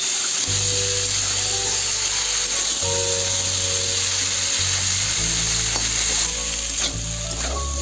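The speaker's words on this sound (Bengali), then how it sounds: "লবণ দিয়ে ভেজে নেবো।" Potato, raw plantain and pointed gourd with salt and turmeric fry in a pan, making a loud continuous sizzle with occasional stirring scrapes over a steady mechanical hum, close and unbroken by speech.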